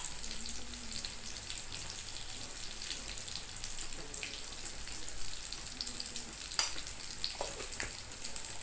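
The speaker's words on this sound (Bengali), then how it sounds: "এবার গ্যাসের ফ্লেমটাকে লোতে রেখে এই ভর্তাটাকে খুব ভালো করে কষাতে হবে।" Spiny gourd mash with salt and turmeric fries in a pan, giving a faint, steady hiss with a few soft scraping and stirring sounds and no talking.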